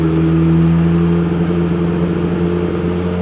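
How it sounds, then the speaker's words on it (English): A 2017 Suzuki GSX-R1000 motorcycle engine runs rough on a dyno, a loud steady mechanical drone with strong low harmonics that wavers slightly rather than revving cleanly, with no talk. "And this bike is stumbling all over the place."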